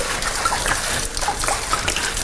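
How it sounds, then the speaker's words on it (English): Boxed wine gushing from the box's spout into a sink while mixing a large batch of drinks, a loud, continuous splashing pour that fills the short clip. "Okay, so I got my box wine running on that side."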